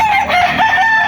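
Gamefowl roosters at the Tres Amigos Game Farm in Caloocan crow loudly and close by, several overlapping calls with a warbling, drawn-out quality and no talking.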